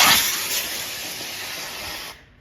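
A rocket motor fires on a rocket-powered train, giving a loud, steady hissing roar that holds for about two seconds before cutting off abruptly.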